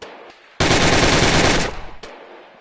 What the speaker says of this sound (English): AK-47, very iconic weapon.